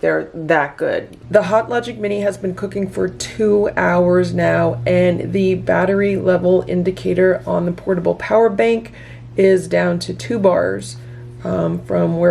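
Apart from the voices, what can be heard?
No distinct noise like a dog, phone or traffic.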